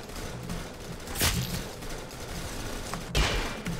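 Rapid gunfire in the Roblox game Arsenal, a dense, continuous burst of shots with two louder, heavier blasts rising out of the steady rattle.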